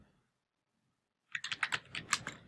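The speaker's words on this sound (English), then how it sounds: "you'll see the relevance of what I'm typing in a few minutes later" Near-silence gives way to a short burst of rapid computer keyboard typing, a quick run of sharp, close key clicks lasting about a second, with no voices.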